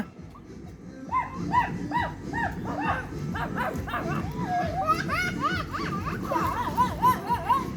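Several short, high dog yips and whimpers repeat in quick bursts, mixed with excited chatter and children's voices nearby.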